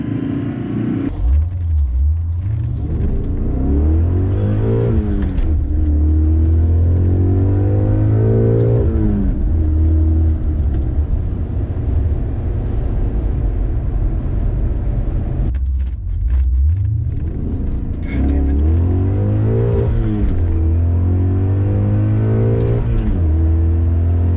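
A BMW E39 M5 pulls hard through the gears, its loud engine rumbling and rising in pitch, easing off, then surging again close up.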